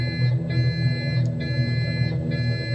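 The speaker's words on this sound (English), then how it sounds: "alarm is because I'm trying to slow down. I'm going to put the gear down, and that will stop." A landing gear warning alarm in a Cessna 182 RG cockpit in Microsoft Flight Simulator 2020, a steady electronic tone sounding continuously over engine drone, with a few brief higher blips.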